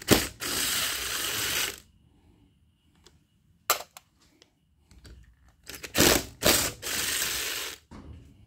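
Ignition coil screws being removed from a Jonsered 2050 chainsaw engine during a rebuild, with close ratcheting bursts in several separate runs and short pauses of near silence between them.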